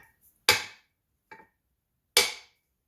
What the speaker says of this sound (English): oh, you shouldn't beat on the turbine housing like that